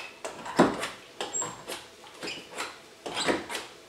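An old-fashioned hand chopper squeaks and clunks as it chops food for an Italian rotolo, a run of uneven rhythmic squeals and knocks repeating close by with no talking.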